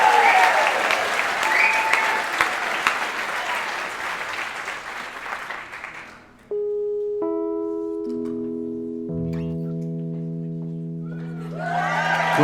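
A concert audience at a village choir's winter concert applauds loudly and steadily for about six seconds, then the clapping stops and a few sustained, pitched musical tones sound alone.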